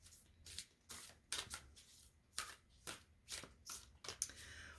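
A thick, sticky deck of cards is shuffled in a quiet room, giving a series of soft, close riffling bursts about every half second.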